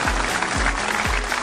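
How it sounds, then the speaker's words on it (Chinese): Applause from a studio audience at a televised Tibetan youth singing competition finale, a broad steady wash of clapping under swells of stage music, with no one talking over it. "掌声送给你们自己。"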